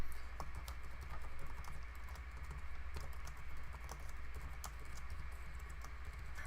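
Rapid, irregular key clicks from a computer keyboard as someone types C# code, steady light tapping close by over a constant low hum.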